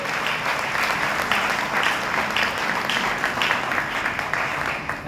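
A church congregation applauds and acclaims in a large hall, a dense, sustained wash of clapping with faint cheering voices mixed in.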